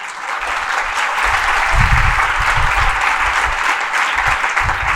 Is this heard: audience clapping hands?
yes